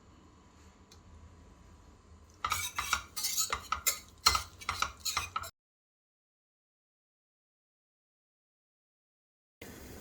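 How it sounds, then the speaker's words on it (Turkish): Grated onions in olive oil are worked in a pot with a spoon, giving a quick burst of clinking, scraping metal strokes after a quiet start, then silence. "3 tane rendelenmiş soğanımızı ilave edip kavuruyoruz."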